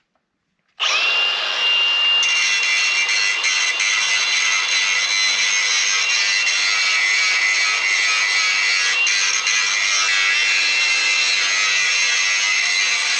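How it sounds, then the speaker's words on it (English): An angle grinder grinds down a weld on a steel offroad wrecker frame so a spring mount will fit tight, a loud continuous high whine that starts abruptly and holds steady with no talk. "So he's just grinding down our weld so the spring mount will fit tight."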